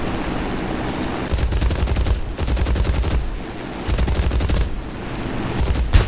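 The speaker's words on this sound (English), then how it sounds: "Got some AA firing me." Anti-aircraft guns fire at a biplane in War Thunder, with dense bursts of rapid flak gunfire arriving in several waves over a steady engine drone, loud and sustained with brief lulls between volleys.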